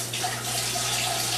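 Hot water runs steadily from a tap in a home brewing setup, used to warm a siphon tube, a continuous close hiss and splash with no talk.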